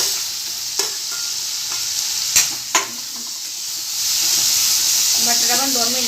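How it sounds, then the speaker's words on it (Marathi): Potato pieces being stirred into softened tomato masala in a pan for an aamras thali, with a few sharp spatula knocks over a hissing sizzle that swells louder toward the end, close by. "बटाटा पण 2 मिनिटं चांगला हलवून घ्यायचा"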